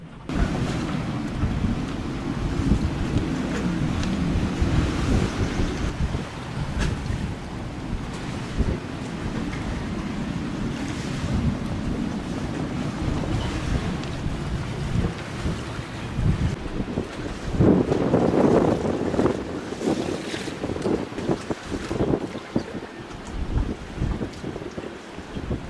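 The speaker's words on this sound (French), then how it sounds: "C'est vraiment sous rafale, là c'est redescendu à 15, ça remonte à 20" Strong gusts from Hurricane Elsa batter a sailboat, roaring across the microphone as a constant loud buffeting rush that surges and swells over nearly half a minute, with no voices.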